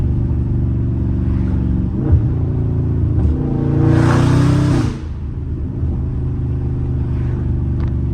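A loud Dodge Scat Pack roars through a hard pull, its deep engine rumble rising in pitch for a few seconds before easing back to a steady drone, heard up close from inside the car.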